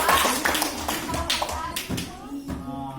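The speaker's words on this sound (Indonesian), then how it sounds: "Ya, tepuk tangan untuk mereka dulu." A classroom group claps for classmates in a few brief, uneven bursts, mixed with voices talking close by.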